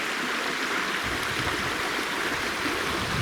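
A creek on a woodland hiking loop rushes and burbles steadily, a close, continuous broadband wash of flowing water with no voices over it.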